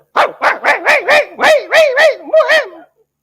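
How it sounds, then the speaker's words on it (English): A bulldog barks repeatedly, about nine loud, close, rapid barks in an even rhythm with a whiny, rising-falling tone, then the sound stops abruptly. "Dogs will come and bark."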